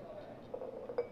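A piece of glass clinks lightly as it is handled near a magnet, a few faint, brief taps over quiet background.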